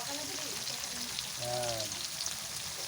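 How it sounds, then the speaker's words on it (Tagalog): Tofu fries in a pan with a steady, faint sizzle and crackle throughout, joined by a brief tonal clatter midway, at close range. "tokwa para masustansya, prito"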